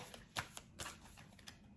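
Tarot cards that stick a little are shuffled by hand, with several soft, quick riffling flicks in an irregular rhythm, close and quiet with no speech.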